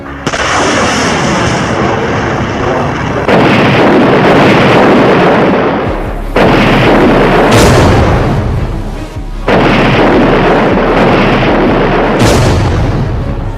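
Rocket attacks hit Mariupol city in wartime: loud, heavy booming blasts roll in several long waves, each with a deep rumbling tail, with sharp new bursts starting about every three seconds.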